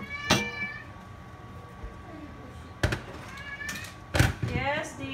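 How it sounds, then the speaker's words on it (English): A house cat meows three times in a kitchen while boiling water is added to chicken sotanghon being cooked; loud, close calls spaced a few seconds apart over a noisy background. "Who is my cat? She likes to meow meow."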